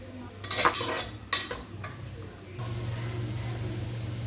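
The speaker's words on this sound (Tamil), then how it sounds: "இப்போ ஆனியன் ஆனியன் பட்டை கிராம்பு ஏலக்காய் எல்லாம் போட்டாச்சு இது வந்து நல்லா பொன்னிறமாக வர வரைக்கும் நம்ம நல்லா வதக்கிக்கலாம்" Onion sautés with cinnamon, cloves and cardamom in a pan, with a few metallic spoon scrapes and clinks against the pan early on, then a low steady sizzle that continues alone.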